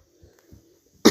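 A single sharp cough bursts out at the end after near silence, close and loud, preceded by faint low murmurs.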